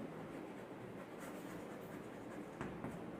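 Pen writing an answer by hand on paper, a soft continuous scratching close by with a couple of brief taps near the end, no talk.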